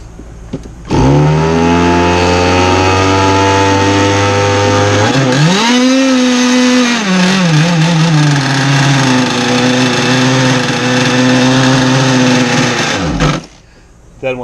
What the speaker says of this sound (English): I'll just spin them up here. See, where's my throttle set at? Yep. And that gets the engine primed and warm.